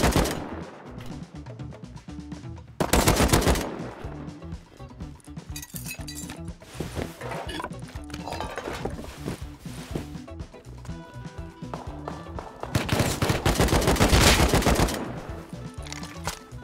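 Rapid AK rifle fire in a video game, loud automatic bursts rattling almost continuously with heavier volleys near the start and toward the end, set in a wooded area.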